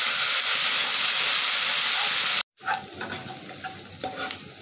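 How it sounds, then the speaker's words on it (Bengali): Ginger, garlic and onion paste hitting hot oil after fish frying: a loud steady sizzle that cuts out abruptly, then returns as a softer, uneven crackle with stirring scrapes. "আমি একটু আদা রসুন পেঁয়াজ বাটা একসাথে দিয়ে দিলাম।"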